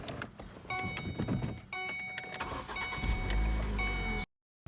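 A 2008 Ford Focus manual car engine cranks with a whirring starter, then catches and settles into a steady idle nearby, with a chime ringing over it.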